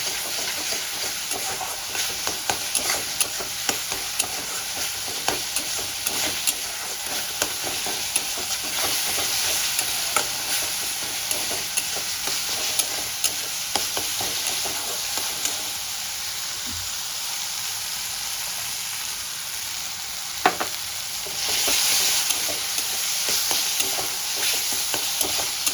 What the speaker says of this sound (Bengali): টমেটোটা দিয়ে আমি ভালো করে কষিয়ে নিচ্ছি, কাঁচা গন্ধটা